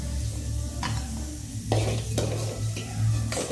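Pooris frying and puffing up in hot oil, a steady near sizzle with occasional bursts of bubbling and faint stirring or utensil scrapes, no talk.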